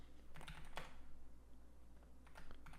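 Steady clatter of keys on a computer keyboard, with a few louder keystroke bursts over a low background hum; no one speaks.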